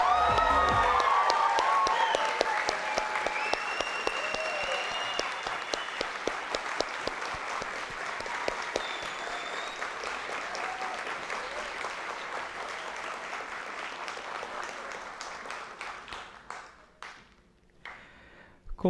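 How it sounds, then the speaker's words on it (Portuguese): Sustained applause and some cheering from the audience at a social work graduation ceremony at PUC-Campinas, steady dense clapping that gradually thins and fades toward the end. "com muitas palmas, saudamos as mais novas formadas pela PUC Campinas."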